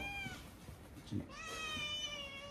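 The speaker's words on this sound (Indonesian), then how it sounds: "Ini ada bentar kucing saya." Scottish Fold cat meowing indoors, a few drawn-out harmonic meows, one early and a longer one late, with a faint thump in the middle and quiet room noise between calls.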